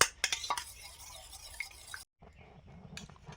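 Spoon stirring custard powder mixed into a mixture, with a few light scraping and clinking strokes near the start, then a short pause and softer stirring.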